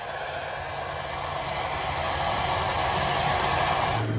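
Steady, loud jet engine roar fills the cabin of a prisoner transport airliner cruising at 31,000 feet, a continuous broadband drone with a high whine on top and no talk.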